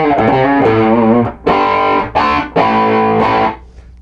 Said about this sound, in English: so that's now with the 408 split, and you can still hear it's got all that thickness